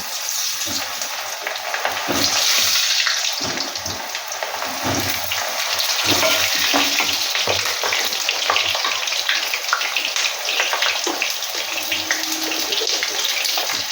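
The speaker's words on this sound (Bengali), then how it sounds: "তেল গরম হয়ে গেছে, আলুগুলো দিয়ে দিচ্ছি" Potatoes drop into hot oil for a chicken curry and fry with a steady, close sizzle and hiss that runs for the whole stretch, with faint clinks underneath.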